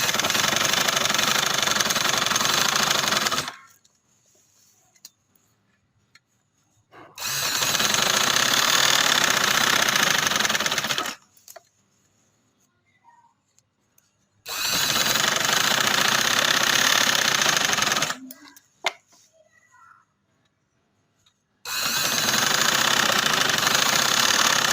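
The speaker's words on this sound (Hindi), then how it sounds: "इस तरह रखते हुए मैं इधर किनारे किनारे पे सिलाई लगा लूँगी" Sewing machine stitching along the edge of summer trouser fabric in four loud, even runs of a few seconds each, separated by near silence.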